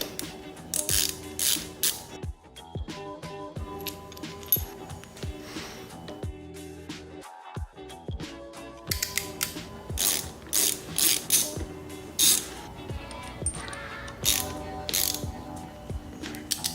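A ratchet clicks in quick, repeated bursts while unscrewing the bar ends on a motorcycle, close and crisp, over steady background music.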